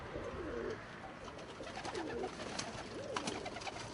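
Soft, repeated cooing of pigeons in steady low phrases, with faint chirps and rustling in the background.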